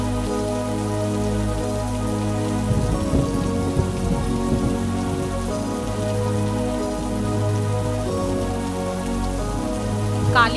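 Heavy rain pouring steadily onto surfaces, a dense continuous hiss that stays close and even, with a low music track beneath and no talk.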